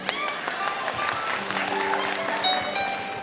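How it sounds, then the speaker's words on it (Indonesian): Scattered applause from supporters in the audience at a live Balinese comedy show, moderate and somewhat thin, mixed with crowd murmur and a few tonal background sounds. "yang dukung tepuk tangannya mana"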